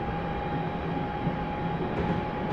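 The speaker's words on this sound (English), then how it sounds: "I'm going to accelerate now to 70 miles per hour, and then I'm going to idle the power and just allow the train to coast." Train in Train Simulator 2018 accelerating on the Rugby to Stafford stopping service, a steady droning rail rumble with a sustained tonal whine, constant and fairly loud throughout with no talking.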